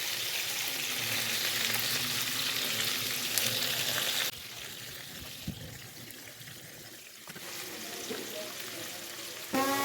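Fish pieces for a fish korma sizzle and fry steadily in a hot pan, loud and continuous, dropping quieter midway as the pan is handled, then rising again with bubbling oil near the end.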